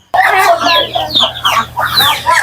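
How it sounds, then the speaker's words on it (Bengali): Indian desi chickens kept separately in a room clucking close by in quick, uneven bursts of short, scratchy calls. "এই ঘরের ভিতরে সেপারেট ভাবে আটকায় রাখি এই মুরগি"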